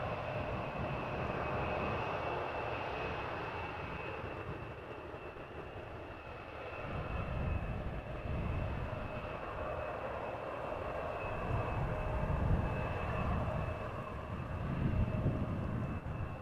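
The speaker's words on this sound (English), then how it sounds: "Plus a departure from runway 24." Jet airplane departing Amsterdam Schiphol's runway 24, a continuous broad engine roar at a distance with low rumble swelling and fading, no voices.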